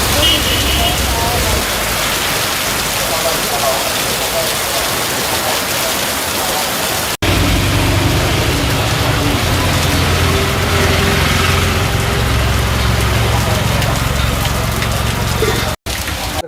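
Heavy rain falls in Kulgam after a heat wave and long dry spell, a dense, continuous hiss of downpour that stays loud throughout, with a voice speaking over it.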